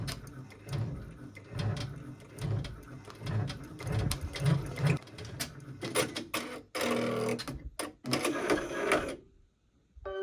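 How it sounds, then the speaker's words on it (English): Embroidery machine stitching a raw edge appliqué design in white thread on fabric. It gives a loud, close, rhythmic mechanical chatter with repeated knocks and whirs, a busier burst near the end, then it stops. "we're on color 2, which is white, and I think that will look cool with this fabric"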